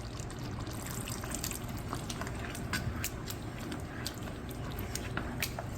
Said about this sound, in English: You want to hit that with a couple of tablespoons of your apple cider vinegar